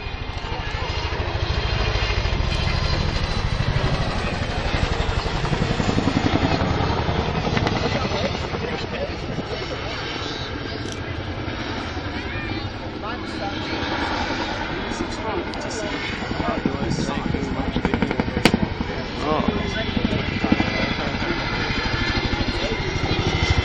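An RAF Chinook twin-rotor helicopter flies a manoeuvring display at an airshow, its loud continuous rotor and engine roar swelling and easing over time as a commentator talks over it throughout.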